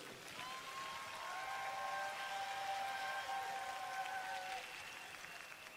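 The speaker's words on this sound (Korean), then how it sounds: "두 분 목사님을 박수로 맞이하겠습니다." Large church crowd at a massive prayer rally applauding to welcome two pastors: a broad, steady wash of distant applause lasting several seconds, with sustained musical tones drifting through it.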